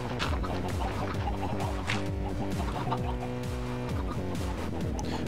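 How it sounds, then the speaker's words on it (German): Chickens cluck repeatedly in a Minecraft chicken farm machine, a dense overlapping stream of game clucking sounds layered over steady background noise, moderately loud throughout. "Die Hühner schlemmen jetzt wirklich hier hin und die Eier bleiben hier hängen"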